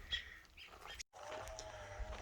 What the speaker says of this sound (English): I wonder if those birds came back.